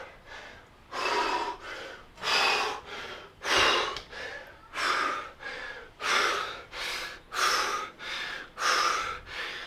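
Heavy, rhythmic panting during a calisthenics leg workout, loud and close, with regular deep breaths in and out of roughly one per second and no talking.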